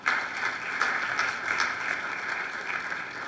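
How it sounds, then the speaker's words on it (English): An audience at an Italian heritage celebration applauds with steady, dense clapping from a crowd, holding at an even level for the whole stretch. "give her a big round of applause again."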